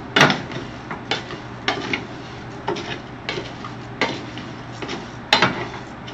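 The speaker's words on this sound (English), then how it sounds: "You first stir it to make sure that all the kernels are covered by that Nucco" A spoon stirs long-grain rice kernels through hot oil in a pan over medium-high heat, making a steady series of sharp scraping clicks about every half second, close and fairly loud, with no talking.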